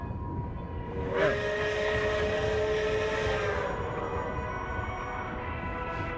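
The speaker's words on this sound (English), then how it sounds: "Oh, there's another train." A train in Genshin Impact's Snezhnaya region sounds a long, layered whistle over a steady rumble of rolling wagons, the horn cutting in after a second and holding for a few seconds before the clatter continues alone.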